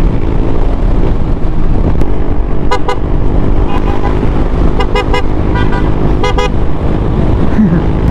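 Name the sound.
vehicle horns honking in greeting on road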